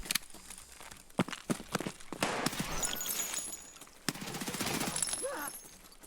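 Gunshots in the shooter game SPT sound as a rapid string of sharp cracks, then heavier sustained bursts with rattling and clatter, moderately loud, with some faint voice-like sound mixed in.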